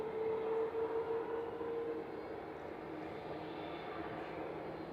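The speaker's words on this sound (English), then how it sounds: "air tanker giving us our first heavy departure of the day. It's going to be going in front of us, nice and noisy with its Trent 700 engines." Air Tanker heavy jet with Rolls-Royce Trent 700 engines departing Manchester Airport, a steady broad roar with a whining tone early on, continuous and moderately distant throughout.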